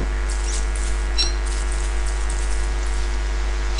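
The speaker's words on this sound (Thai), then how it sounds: "ฝนตกนะครับ" Rain falls in the survival video game Don't Starve, a steady, soft patter over a constant low hum, even and unbroken with no talk.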